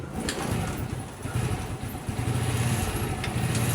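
A motorcycle engine runs steadily at idle during a charging system test, with a continuous low rumble and mechanical rattle at moderate level throughout and no speech.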